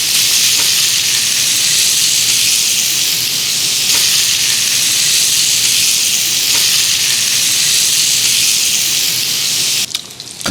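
Geera pork frying and crisping in a pan, a loud, continuous close sizzle with steady crackling and hiss throughout, no pauses and no talking.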